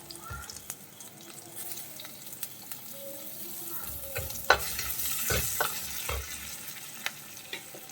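Crushed ginger, garlic and green chillies sauté in a pan for a Kerala choora fish curry with a low sizzle. A spoon scrapes and taps now and then, close up with no talking.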